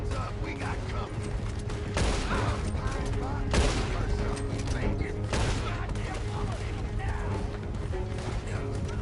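Gunfire during a coach robbery in Red Dead Redemption 2: several sharp bursts of shots crack out at irregular intervals over a constant background rumble, fairly loud and close.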